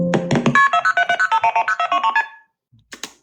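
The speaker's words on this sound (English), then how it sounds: "let me play that other phone call for you" A recorded phone call begins as a quick run of about a dozen evenly spaced dial tones, loud and clipped, then goes quiet apart from two brief faint noises near the end.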